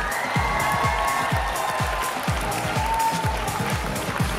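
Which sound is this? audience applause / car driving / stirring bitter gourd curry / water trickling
audience applause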